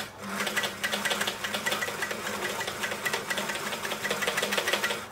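Elna L4 overlocker serger stitching fabric, a steady fast mechanical whirring with rapid rhythmic needle clatter running continuously throughout, close and fairly loud, no talking.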